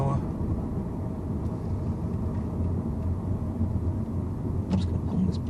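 A car cruising in fourth gear at about 20 mph gives a steady, low engine drone and road rumble that holds evenly from start to finish, with no one talking.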